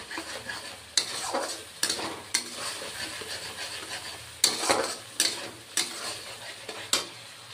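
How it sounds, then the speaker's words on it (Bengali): Spices with Kashmiri chili powder sauté in a pan, a steady sizzle punctuated by about seven sharp scrapes and clacks of a spoon against the pan at irregular intervals, close and moderately loud with no talking. "দিয়ে এখন কষিয়ে নেব"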